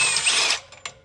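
A power tool backs bolts out of a Kawasaki Ridge primary clutch, a loud close whirring burst lasting about half a second, followed by a couple of brief ratcheting clicks.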